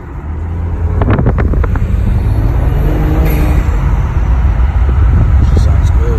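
A BMW N55 engine with a stage 3 tune and low-pressure fuel pump upgrade idles and drives, a steady low rumble with road and wind noise throughout, while a voice briefly talks over it near the start.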